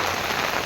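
Steady rain pours in the village of Vanatnagar, a dense, even patter on surfaces that fills the short moment without any voices.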